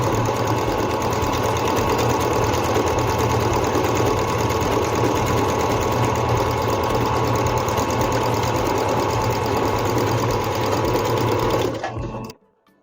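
A Singer C5605 electronic sewing machine stitching fabric runs at a fast, steady mechanical chatter, loud and close for about twelve seconds before stopping abruptly.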